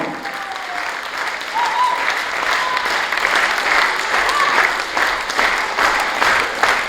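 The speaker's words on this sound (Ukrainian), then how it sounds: "ще і ще ваші гучні овації" Loud, sustained ovation from a concert audience for a performer: a thick, continuous wash of applause that holds steady throughout.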